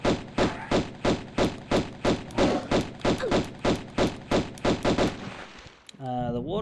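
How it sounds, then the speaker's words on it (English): Rapid gunfire in Tomb Raider 1 Remastered, about fifteen evenly spaced loud shots over five seconds, followed by a short rising game tone at the end. "Let me pepper it with metal slugs."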